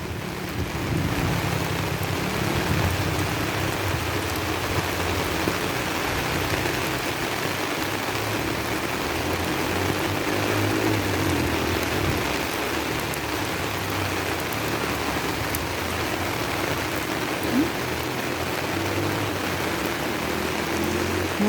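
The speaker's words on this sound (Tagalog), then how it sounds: "nakakabasa ang ulan guys" Steady, dense rain pours down and patters continuously on an umbrella held overhead, a loud unbroken hiss with no talk.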